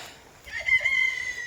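Brahma chickens in a sunny poultry run, a single rooster-like crowing call rising midway and holding for about a second, moderately close, with soft clucking and light background noise.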